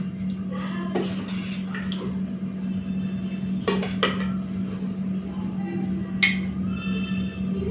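A bowl of pabda fish curry is set down beside a plate of rice with onion and green chilli, giving a few soft clinks over a steady low hum.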